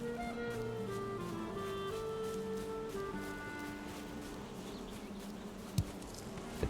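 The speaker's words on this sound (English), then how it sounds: "I hear more bees." Bees buzzing in a video game, a steady droning hum with layered tonal lines that holds for the whole stretch, with a couple of brief clicks near the end and no talking.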